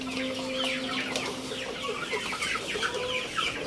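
Large three-month-old Indio Gigante chickens cluck and murmur steadily in a pen, a busy overlapping chorus with brief higher calls, and no talking.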